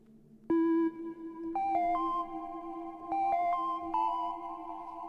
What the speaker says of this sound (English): which is one of my favorite synth sounds I've ever made